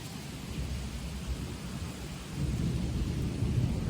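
Steady rain with deep rolling thunder at a rural home, a continuous low rumble that swells louder in the second half, with no voices.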